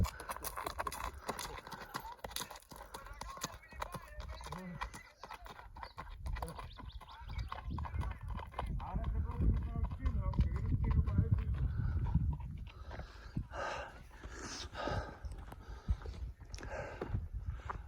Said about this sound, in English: Aquí, con el caballo.